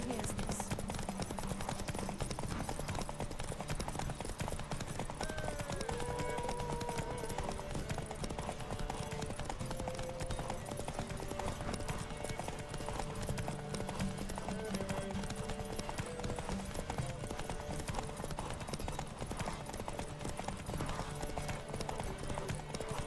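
Roach, the horse in the video game The Witcher 3, trots with a steady clip-clop of hooves over a dense layer of game music and ambience, continuous and even in level.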